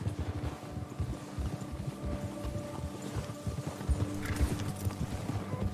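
A horse trots in Red Dead Redemption 2, rhythmic clip-clop hoofbeats running steadily throughout with faint tack rattle and ambient wind, moderately close, no speech.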